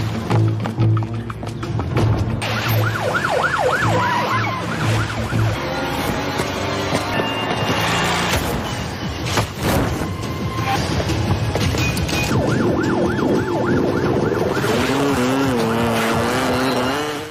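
Police car sirens wailing during a chase in a film scene, rising and falling tones recurring over crashes, impacts and engine roar, with dramatic music underneath.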